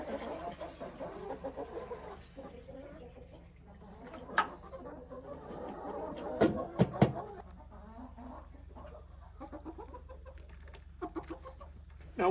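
Hens cluck and murmur inside a chicken house holding black Leghorns, light Sussex, Plymouth Barred Rocks and Rhode Island Reds, with a few sharper squawks standing out midway over a steady low flock chatter.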